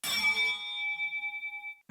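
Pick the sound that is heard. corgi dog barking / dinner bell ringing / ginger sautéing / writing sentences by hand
dinner bell ringing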